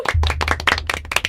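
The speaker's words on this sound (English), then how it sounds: "Let's all have a round of applause for Russell and Quinn." A small group claps briefly for Russell and Quinn at the close of a stage show, close, loud and quick hand claps over about a second with a low hum beneath.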